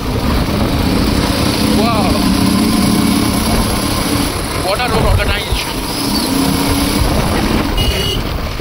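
Motorcycles carrying pillion riders climb a mountain road toward Bum La Pass near Tawang, their engines droning loudly and continuously up close with wind buffeting and voices over the riding noise.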